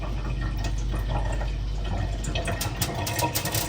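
Water poured out steadily at a home, a continuous close splashing and trickling stream with some brighter splashes toward the end, heard alone with no talking.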